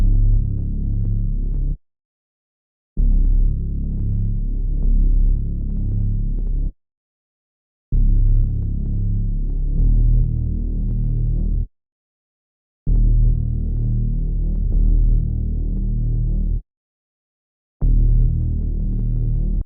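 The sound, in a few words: synth bass sample from a multi-kit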